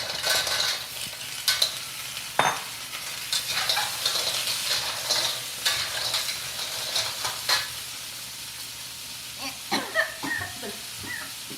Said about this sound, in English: now we're gonna put in the clam